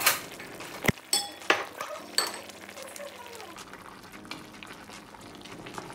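Curry saltfish with beans simmering in a pot gives a soft, steady bubbling. A few clinks of a utensil against the pot come near the start, and a voice talks over it.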